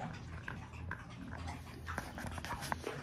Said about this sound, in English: This is my good dog,